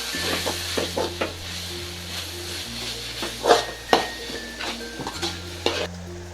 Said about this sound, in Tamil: அதுக்கப்புறம் டொமேட்டோ கெச்சப் இதெல்லாம் சேர்த்து நல்லா மிக்ஸ் பண்ணிப்போம்